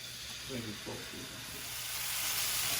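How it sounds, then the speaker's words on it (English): Pork browning in olive oil in a pan gives a steady, close sizzle that grows gradually louder, with a voice talking faintly underneath. "I want to seal it, brown it on both sides, all sides, before I stick it in the oven"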